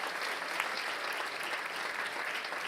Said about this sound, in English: Round of applause for Valentin as well.